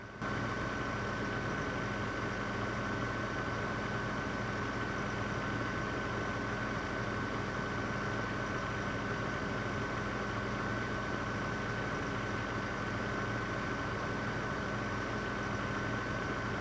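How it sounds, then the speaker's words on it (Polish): A tractor engine in Farming Simulator 18 drives through a farmyard, giving a constant, loud, droning hum with a low tonal rumble that holds unchanged throughout, with no voices. "ten ciągnik jest bardzo fajny do transportu, bo może jechać 50 km na godzinę"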